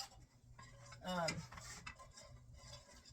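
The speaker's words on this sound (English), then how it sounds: "So I'm going to stir this" Dairy-free condensed milk, thickened with cornstarch, is stirred in a pan on the stove, giving a few soft metallic scrapes and clinks of a utensil against the pan, quiet and close, with faint background sound.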